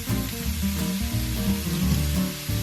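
Tomatoes hit a hot pan of shrimp for pasta, giving a steady close sizzle with low bubbling pulses and faint stirring, continuous throughout without any speech.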